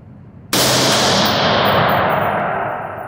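A rifle fires one sharp, loud shot at an outdoor range during an optic test, the blast bursting in and ringing out with a long echoing decay.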